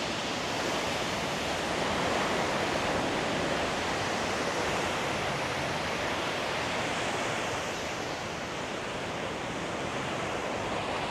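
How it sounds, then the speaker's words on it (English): Steady roaring surf washes continuously on a beach in Da Nang, a broad hiss of breaking waves on a shore with no voices. "There's always a bunch of waves at the beach"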